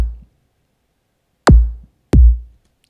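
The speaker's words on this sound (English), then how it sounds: "So the kick drums sound like this." Two electronic kick drums play in Ableton after a clipped tail at the start, each a punchy, booming low thump with a sharp click on top, separated by silence.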